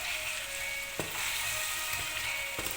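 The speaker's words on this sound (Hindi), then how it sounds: "आलू डाल के हमने थोड़ी तेज़ आंच पे पकाना है इसे।" Potatoes frying on high heat in a pan for a brinjal-and-potato curry give off a steady, close sizzle throughout, with a few soft stirring knocks mixed in and no voices.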